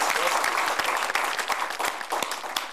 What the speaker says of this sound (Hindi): एक बार जोरदार तालियां बजाना चाहता हूं